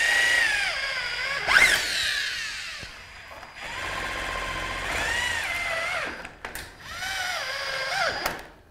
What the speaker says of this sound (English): I now need to secure the timber in place using a Cineat high thread screw at